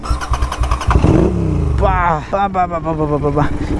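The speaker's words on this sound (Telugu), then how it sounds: "రైట్ నో మీకైతే ఫస్ట్ ఎగ్జాస్ట్ నోట్ అయితే వినిపిస్తా. ఎగ్జాస్ట్ తినేసేయండి." Revving exhaust note from a tuned Royal Enfield GT 650 motorcycle, close and loud, with rising and falling blips of the throttle under someone talking over it.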